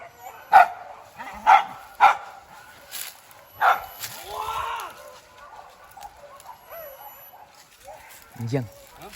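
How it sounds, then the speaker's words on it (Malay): Several sharp hunting dog barks ring out at a moderate distance in the first few seconds during a wild boar hunt, followed by quieter yelps, a whimper and faint background voices. "Anjing."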